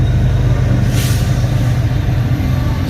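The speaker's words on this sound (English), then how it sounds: "sorry about the noise from the train." A passing train rumbles loudly and steadily nearby, with a deep continuous roar and a brief hiss swelling midway through, heard alone.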